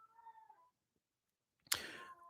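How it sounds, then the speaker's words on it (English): A house cat meows and yowls at night, a faint drawn-out call followed after a pause by a sharper, louder burst of caterwauling. "my cat is just like honking up a storm tonight"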